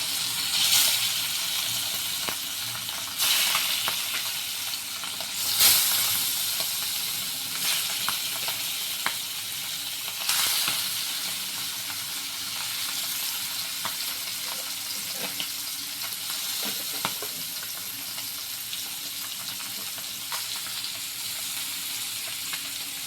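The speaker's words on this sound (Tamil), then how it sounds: "இப்போ வறுத்து காட்டுறேங்க" Marinated fish frying in a hot kadai for a Tamil-style meen varuval, a loud continuous sizzle with occasional sharp crackles and pops, close up and without talk.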